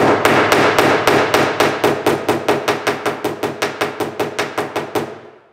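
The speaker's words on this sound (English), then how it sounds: "I'm gonna use kind of a blunt-faced hammer for that." A blunt-faced hammer taps an Oldsmobile's metal deck lid about twenty times in a steady, even rhythm, close by, each blow slightly softer toward the end.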